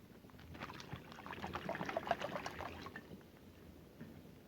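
Water pours into a plastic bag in a soft, continuous splashing trickle that swells slightly mid-pour and then eases off, faint and close with no talking.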